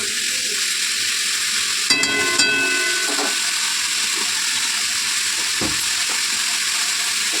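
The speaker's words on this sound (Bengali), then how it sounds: "সমস্ত সবজিগুলো খুব ভালো করে ভেজে নিলাম।" Mixed vegetables for chow mein frying hard in a pan, a loud constant sizzle and hiss, with a sharp clatter of stirring near the two-second mark and scattered scrapes afterward.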